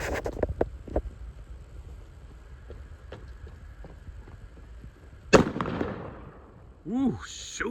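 Small firework from a firework advent calendar goes off outdoors with a single sharp, loud bang, following a scatter of faint crackles and wind noise, and a voice reacts afterward.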